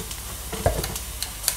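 Something frying crisp in a pan of oil, a short burst of soft crackling sizzle with a thud and a few light clinks, close and moderately loud.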